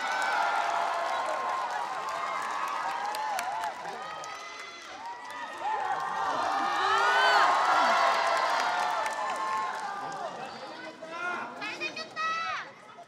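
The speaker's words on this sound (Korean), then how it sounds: "박수 부탁드리겠습니다." Audience at a high-school rap competition stage show cheers and applauds for a first-year rapper from Hanlim Arts High School, a steady roaring crowd with whoops and clapping throughout, some voices audible within the noise.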